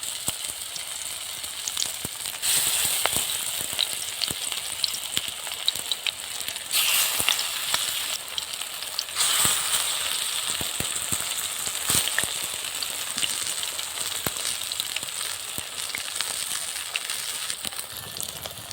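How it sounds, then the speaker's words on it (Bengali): Mushroom, spring onion and masoor lentil fritters fry in a small amount of oil in a wok. They give a steady, close, continuous sizzle with faint crackles throughout, and no talk. "আমি বোড়া ভাজবো আমি কড়াতে দিয়ে দিচ্ছি"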